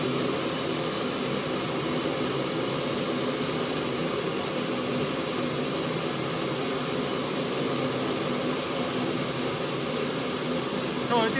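Small gas turbine engine running at 5% throttle, a loud steady roaring hiss with a constant high whine, continuous and close throughout the clip.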